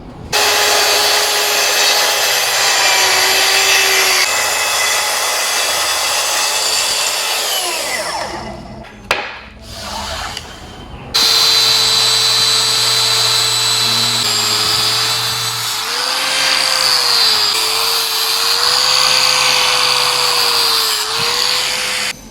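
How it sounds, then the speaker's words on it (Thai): Wooden table legs are cut at a five-degree angle with a power saw, a loud continuous whining cut with shifting pitch, a brief pause midway, then the saw runs on steadily. "ผมจะเลื่อยขาให้เฉียงนะครับ"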